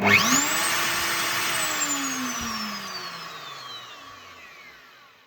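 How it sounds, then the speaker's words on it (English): A router in a Kreg router table, part of an automated router lift setup, spins down after being switched off, its loud whine gradually falling in pitch and fading over several seconds with no talking. "This will start and stop the router."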